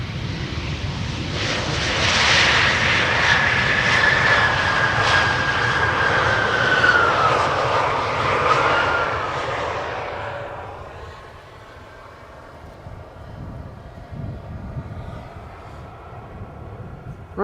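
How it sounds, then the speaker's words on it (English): A Helvetic Airways airliner arriving at Amsterdam Schiphol from Zurich roars loudly and close for about ten seconds, its broad engine rumble and rising whine passing by before fading into a lower, distant drone. "Swiss, or I should say Helvetic Airways, arriving from Zurich"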